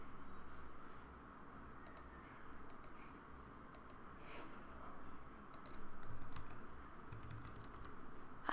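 Keys clatter on a Japanese computer keyboard, with faint, scattered clicks and short bursts of typing over a quiet room hum.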